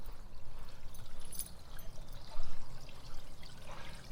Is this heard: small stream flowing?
yes